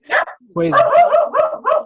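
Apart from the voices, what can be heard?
dog barking during online class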